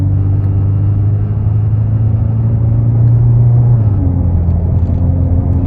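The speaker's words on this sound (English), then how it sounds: "This is on light acceleration." A 2015 Mazda 6 fitted with a straight-pipe single-exit exhaust pulls under light acceleration, giving a loud, steady low drone that climbs slightly in pitch before easing off near the end, heard from inside the car.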